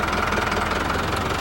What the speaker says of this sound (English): this machine here, this pump, for a night, if it was running with the tractor, it will irrigate about 30 acres